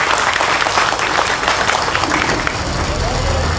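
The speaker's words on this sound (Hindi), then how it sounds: "यादव यहां पर आए, इनका हार्दिक स्वागत, जरा जोरदार तालियों से उनका स्वागत करिए।" Loud, dense applause from a crowd at a Congress party political rally in Mumbai welcomes a former MLA, sustained steady clapping with crowd murmur throughout.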